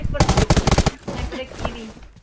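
Sniper and rapid gunfire in the online shooter Undawn: a loud burst of closely spaced shots in the first second, followed by fainter scattered shots and game noise.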